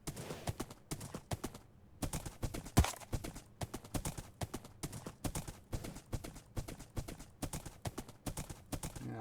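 Horse hooves clip-clop at a steady trotting rhythm while riding at night along a path in Minecraft, close and distinct, continuing without pause throughout.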